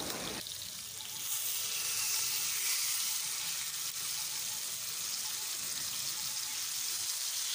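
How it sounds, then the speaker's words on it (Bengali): Pieces of Bhetki (barramundi) fish fry in hot oil for a Bengali mustard-oil curry, giving a loud, steady, bright sizzle that jumps up after the first half second and then holds without any talking. "অপর প্রান্তগুলোও আমরা ঠিক এইভাবেই ভেজে নেব।"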